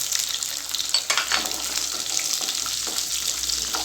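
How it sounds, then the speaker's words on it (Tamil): Chopped small shallots fry in hot oil for a curry leaf kulambu, giving a continuous close sizzle with crackles and light stirring scrapes. "இப்போது கட் பண்ணி வச்சுருந்தா சின்ன வெங்காயம் ஆட் பண்ணிக்கிறேன்"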